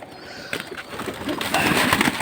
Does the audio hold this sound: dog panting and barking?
no